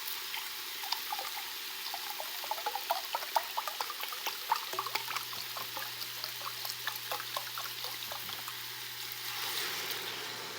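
Store-brand chicken broth from a box poured into a pan to deglaze browned bits, a soft, steady trickling and splashing stream lasting several seconds, quiet and close with no talking.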